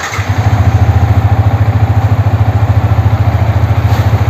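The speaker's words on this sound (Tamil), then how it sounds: "இப்போ நம்ம பைக்கை ஸ்டார்ட் பண்ணி ஒரு 5 நிமிஷம் ஆட விடுவோம்." A Yamaha R15 V3 motorcycle engine idles close by with a steady, rapid thumping putter that stays even throughout.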